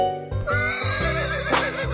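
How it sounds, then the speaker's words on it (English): A horse neighs in one loud, quavering whinny that rises and trembles over about two seconds, heard alone and close. "Horse."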